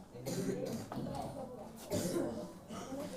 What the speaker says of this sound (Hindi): तुमको तो खांसे से फुर्सत नहीं है ना?